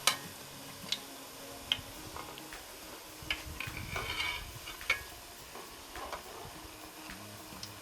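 Achappam frying in hot oil with a soft, quiet bubbling sizzle, punctuated by light ticking clinks as the rosette mould and pieces are turned over.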